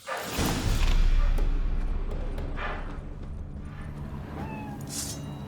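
A cat meows a few times inside The Witcher 3: Wild Hunt, Hearts of Stone, mixed with horse hoof clip-clop and a low, busy game ambience, the meows faint and set back in the scene.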